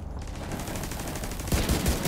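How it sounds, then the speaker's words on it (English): Automatic weapon fire in The Division 2 shooter game: a steady stream of loud, close shots, then sharper heavier bursts punching through in the final second, with no talk over them. "Forgot how much kickback this gun had."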